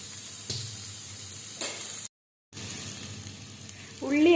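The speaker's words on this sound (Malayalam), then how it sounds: "ഇഞ്ചിയൊക്കെ ഇട്ട് നമുക്ക് നന്നായിട്ട് വഴറ്റിയെടുക്കാം." Ginger sizzling and frying in a pan for Kerala-style fish masala, a steady hiss with a few stirring scrapes, a brief silent gap midway, and louder sizzling near the end.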